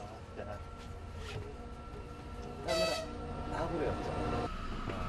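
Steady rumble and clatter of a moving passenger train in Hungary from inside a carriage, with a horn sounding and faint voices in the background.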